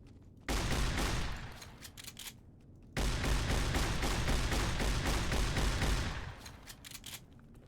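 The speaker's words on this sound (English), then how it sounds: "let's test out this shotgun real quick." Shotgun blasts in Fallout: New Vegas Dead Money, two loud bursts about two seconds apart, each followed by a dense, sustained crackling roar that fades out, with no talk.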